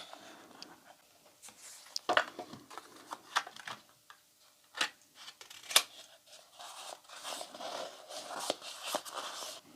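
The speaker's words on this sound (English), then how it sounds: "And then just peeling the backing off." Backing peeled off double-sided tape during a small craft project, heard as faint crackly rips and ticks, close and intermittent.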